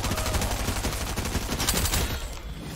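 Submachine gun fire in a shooter video game, a short burst of rapid, continuous shots at moderate volume, heard alone for under three seconds.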